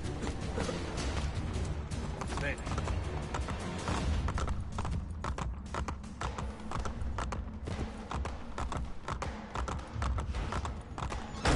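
Horse hooves in the video game The Ezio Collection clip-clop in a quick, steady rhythm, close and continuous for the whole stretch.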